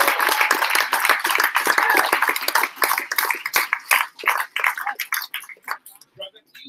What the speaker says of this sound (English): ladies and gentlemen, one last time, big round of applause.